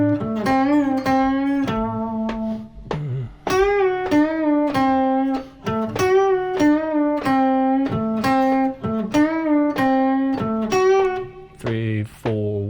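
An electric guitar plays a song part slowly and steadily, sustained picked notes ringing in a repeating pattern, loud and close with no talking.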